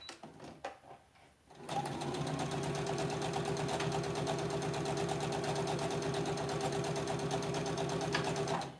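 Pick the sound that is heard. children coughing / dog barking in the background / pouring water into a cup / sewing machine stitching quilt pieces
sewing machine stitching quilt pieces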